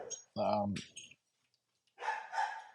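Dogs barking nearby in loud, separate bursts with a short quiet gap between them, and a voice speaking between the barks.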